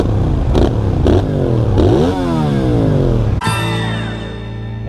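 Motorcycle on a race circuit revving hard, rapid gear changes with pitch climbing and dropping in repeated sweeps, loud and close, then a sharp cut to a settling drone.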